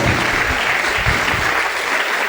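A church congregation claps together in a dense, sustained burst of applause that fills the room, loud and continuous with no speech over it.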